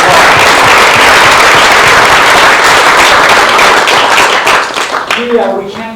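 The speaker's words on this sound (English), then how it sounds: "One more round of applause." Lecture-hall audience applauds in a sustained, loud wash of many clapping hands, thinning out near the end as a voice begins speaking over the last claps.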